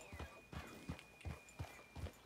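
Horses in a video game clip-clopping at a steady walking rhythm, six or so evenly spaced hoof beats, faint and moderately close, with a thin steady tone running underneath.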